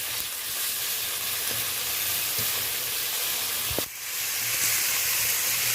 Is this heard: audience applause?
no